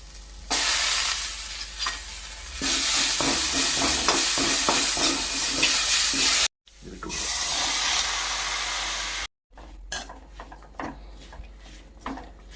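Spinach with onion and chilli stirred in a hot pan, loud steady sizzle and hiss with scraping strokes, broken by two brief silent gaps, then quieter intermittent clinks and stirring toward the end.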